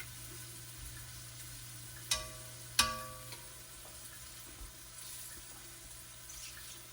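Beef for stew fries in a pan with a quiet, steady sizzle. Two sharp clinks or knocks stand out near the middle, and no one speaks.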